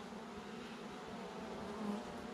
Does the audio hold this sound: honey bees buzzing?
yes